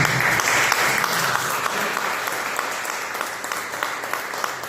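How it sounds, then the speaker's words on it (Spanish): A crowd claps steadily at a church service, dense and sustained, gradually fading slightly over a few seconds. "Un aplauso, Señor, ¿verdad?"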